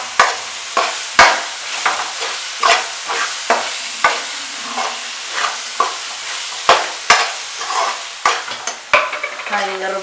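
Chili powder fries in a pan for channa masala, a constant sizzle broken by a regular rhythm of spoon scrapes and stirs, close and clear.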